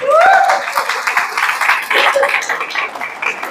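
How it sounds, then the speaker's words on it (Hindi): A burst of clapping from a group, mixed with voices and a brief whistle-like tone at the start. "चलिए बहुत बढ़िया, जोरदार तालियां।"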